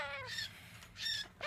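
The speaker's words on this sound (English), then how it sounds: "I have quite a few baby birds in here." Two faint, scratchy squawks from baby moustached parakeets, separated by a short pause, heard at a distance.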